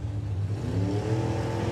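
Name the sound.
Toyota Corolla hot rod drag racing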